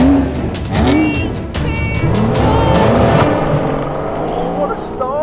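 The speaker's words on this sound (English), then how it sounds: "So I've got an M3 competition pack over there and we're going to have a drag race." A BMW M760Li and an M3 Competition launch together from a drag race start, with loud close engines roaring hard and tires squealing as the cars pull away, the roar fading slightly toward the end.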